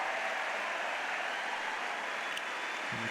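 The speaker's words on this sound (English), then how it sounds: "And the crowd goes wild." Crowd at the 2004 US Open final in New York, Federer against Hewitt, applauding and cheering in a steady dense roar that fills the whole stretch without break.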